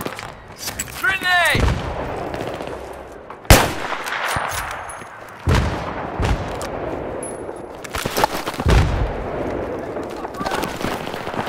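Battlefield 3 combat with a grenade blast and bursts of gunfire, several loud sharp explosions and shots spaced across the stretch, along with metallic clanks, footsteps and radio-style voices in between.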